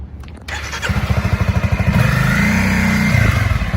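A motorcycle pulls away from a stop, its engine chugging in rapid pulses that rise into a stronger revving drone as it accelerates, heard up close and alone.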